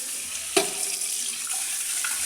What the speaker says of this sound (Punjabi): ਹੁਣ ਇਹਦੇ ਉੱਪਰ ਆਪਾਂ ਪਾਣੀ ਪਾਵਾਂਗੇ